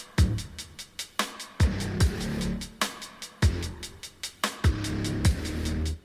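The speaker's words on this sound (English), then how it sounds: "This is the boss theme for the final boss Providence from Risk of Rain 1." Music from the final boss Providence theme in the video game Risk of Rain: heavy, pounding percussion hits in an irregular driving rhythm, each landing with a booming low drop, loud and alone.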